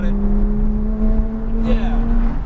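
A Porsche accelerates on track at Atlanta Motor Speedway, its engine giving a steady, close droning tone that rises slightly in pitch, with a voice talking over it.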